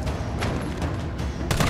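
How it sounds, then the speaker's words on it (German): Gunfire from the video game Resident Evil 3, a few sharp bursty shots spaced out over a steady game background, with the loudest report near the end. "So einzelne Schüsse in den Kopf."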